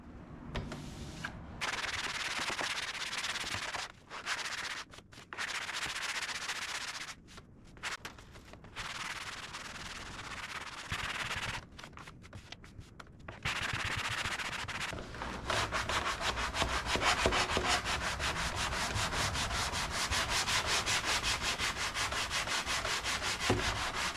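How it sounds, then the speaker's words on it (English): Continuous rhythmic sanding on a wooden dresser with a marble top, close and loud, the rasping strokes broken by short pauses before running steadily to the end. "If you ever miss arm day at the gym, just sand something."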